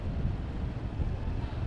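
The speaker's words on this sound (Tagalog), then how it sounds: "Malakas na yung hangin." Strong wind buffets the microphone during a boat ride on the Pasig River, a steady low roar with engine and water rumble underneath, continuous throughout with no talking.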